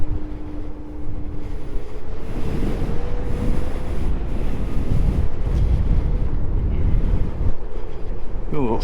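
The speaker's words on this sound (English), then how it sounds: "got some headwind here" Headwind buffeting the rider on a sit-down Lime electric scooter, a loud continuous rushing roar of wind across the microphone with gusting surges and a faint motor whine underneath.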